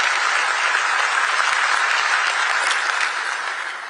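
Loud, dense applause from a large audience at the FIFA World Cup draw ceremony, after a performance, fills the space steadily, then starts to fade slightly toward the end.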